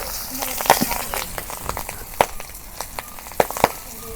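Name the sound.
pangas fish pieces frying in hot oil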